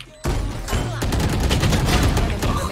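Close, loud burst of rapid gunfire in the shooter game Valorant, a sharp onset followed by a quick string of repeated shots and booms.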